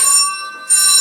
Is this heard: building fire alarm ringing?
yes